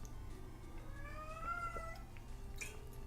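A house cat meows indoors, giving a few faint, drawn-out cries with rising and falling pitch over a quiet room hum, alone and without speech.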